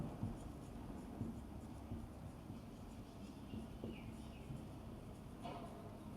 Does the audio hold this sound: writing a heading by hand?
yes